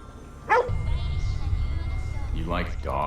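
A dog being fed in Ghostwire: Tokyo gives a short yip, then lets out soft whimpering barks over a low rumbling background hum.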